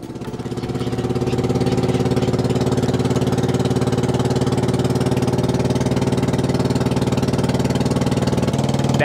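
A motor boat engine chugs steadily and loudly during a boat ride on the river at Varanasi, a constant close mechanical drone with a rapid even throb, running without pause.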